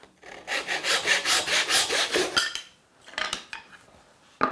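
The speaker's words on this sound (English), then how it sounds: "Let me first just go ahead and cross cut out this piece." A hand saw crosscuts a small wooden piece in a workshop with fast, rhythmic rasping strokes close by, followed by a pause and a few scattered scrapes and knocks.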